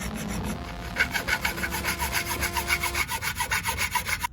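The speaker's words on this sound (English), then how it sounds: "then we're going to have to do some filing down here" A hand file scrapes rhythmically across a metal part on a Yamaha BWS 100 scooter, with close, steady back-and-forth strokes repeating about every quarter second.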